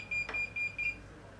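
A Dasqua 8400-0005 digital inclinometer's high electronic beeper sounds in a few short pulses with brief gaps as it nears level, fairly quiet, against a low hum.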